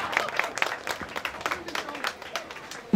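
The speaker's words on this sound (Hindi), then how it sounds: "इसके लिए इनके जोरदार तालियां" Residents of a Mira Road housing society gathered for a Ganesh festival clap in a loose, uneven round of applause, individual claps audible with some chatter underneath, ending on a sudden sharper noise.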